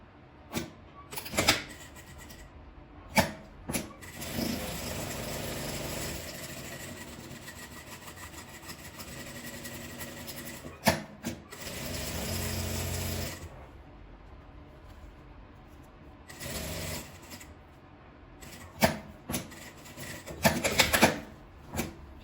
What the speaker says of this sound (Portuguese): Vou começar a costurar, dar a volta com um pezinho de máquina